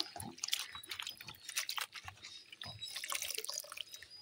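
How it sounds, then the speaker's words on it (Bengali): Water splashes and drips as bottle gourd leaves are washed in a bowl, with quiet irregular sloshing and squeezing sounds, close and faint. "পাতাগুলো ধুয়ে নিই, তারপরে আবার জলটা বসিয়ে দিই।"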